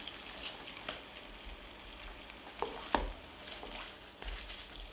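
Chicken sizzling and frying in a pan, covered with baking paper, a soft continuous crackle with a few louder pops and spatters scattered through.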